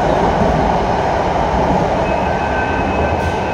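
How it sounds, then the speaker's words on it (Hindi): Loud, continuous rumble and roar of a metro train passing close by near a mall in India, a dense steady wash of noise with a faint high whine near the end. "मेट्रो का भी आवाज़ बहुत है"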